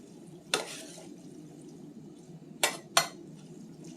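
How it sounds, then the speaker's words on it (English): Thick corn salsa chili stirred in a pot, three sharp scraping knocks of the spoon against the pot standing out over a low steady background. "Let me stir that all up."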